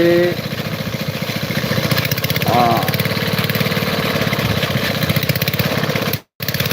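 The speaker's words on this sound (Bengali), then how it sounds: "ও মেশিন স্টার্ট হয়ে গেছে" A machine engine runs loud and close with a steady, throbbing mechanical drone, cutting out briefly just before the end.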